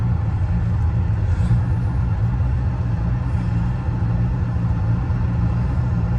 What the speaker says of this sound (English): I'm trying to give it gas and it's bogging, it's struggling.